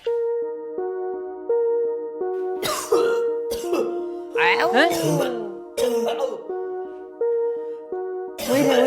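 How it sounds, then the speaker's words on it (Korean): Harsh coughing and throat-clearing fits with strained, gagging heaves from a person with indigestion, a few bursts spaced over several seconds, set against a steady musical background. "기침을 저렇게 해? 구역질이야?"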